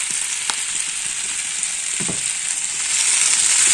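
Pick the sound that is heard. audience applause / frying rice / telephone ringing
frying rice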